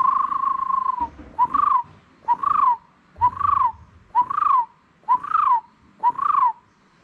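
A man whistles an imitation of a white-cheeked barbet call, starting with one long steady note and then repeating short rising-falling phrases about once per second, loud and close, with no speech.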